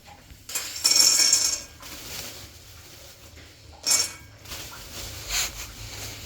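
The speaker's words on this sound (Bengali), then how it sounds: "আর এই যে এখানে দেবো বাদাম।" Peanuts being added into a pan, a rattling scatter of small hard pieces in two separate bursts, the first longer and louder, followed by lighter clinks in a quiet room.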